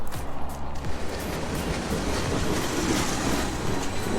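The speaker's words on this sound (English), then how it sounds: "Stinking train." A train rolls along railway tracks beside a creek, a loud continuous rumble with rhythmic clickety-clack of wheels and a brief squeal, steady throughout with no talk.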